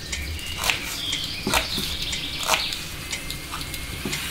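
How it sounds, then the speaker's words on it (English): Birds chirp in short, bright calls at irregular intervals, a few notes each, over a soft background hiss with no voices. "Birds."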